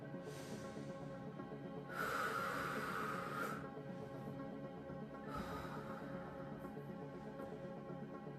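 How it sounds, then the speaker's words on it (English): Slow, deep breathing during a gentle yoga flow: two long, airy breaths, the first fuller than the second, heard close and soft with no talk. "Take 3 more cycles of breath."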